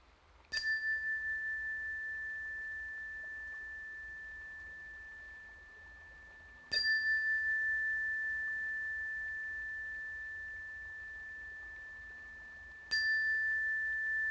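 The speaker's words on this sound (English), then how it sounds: "focus your attention on the sound and follow the resonance of that final 3rd ringing of the bell" A meditation bell struck three times at slow, even intervals, each strike a bright clear ding followed by a long, pure resonant hum that slowly fades, heard alone in a quiet room.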